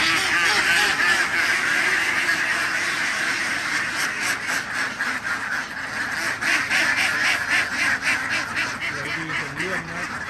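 A flock of Thai laying ducks released together quack loudly and continuously, a dense close chorus of overlapping calls with repeated honking bursts throughout.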